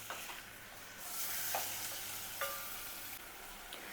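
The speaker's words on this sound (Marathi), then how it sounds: "कांद्यावर छान असं परतून घ्यायचं मटण" Mutton sautés in a pan over onion, ginger and garlic for Kolhapuri white rassa, making a faint, steady sizzle broken by a few soft scraping stirs.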